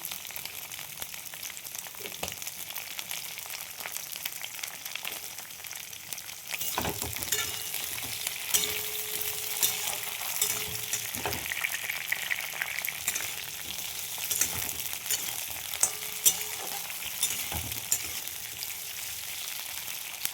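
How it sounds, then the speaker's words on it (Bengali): Green chillies and garlic frying in a pan give off a continuous oily sizzle for about twenty seconds, with occasional scrapes and stirring knocks and no talking. "আমি এই লঙ্কাগুলো ভেজে নিই কিছু রসুন দিয়ে দিলাম"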